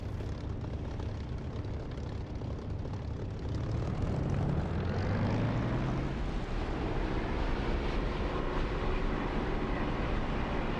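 An aircraft engine in a flight simulator game spools up for takeoff, a rumbling drone that swells after a few seconds and holds steady with a rising whine over continuous engine noise.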